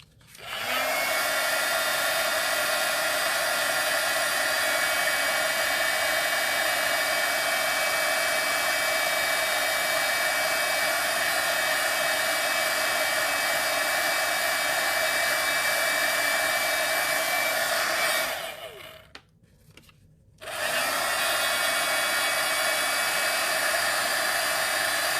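A hair dryer blowing steadily to dry ink on a small beach-themed note card, a loud continuous whir that cuts out briefly near the end before starting again.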